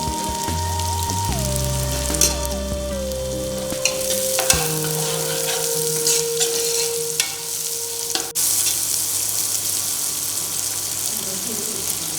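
Onions and green chillies sizzle and crackle steadily in hot oil for turkey biryani, close and loud, while gentle music plays underneath.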